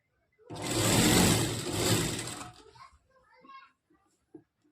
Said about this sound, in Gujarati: થોડુંક કાપડ શીકણું છે એટલે સીવામાં કેવરાવશે, પણ તોય મજા આવશે સીવવામાં.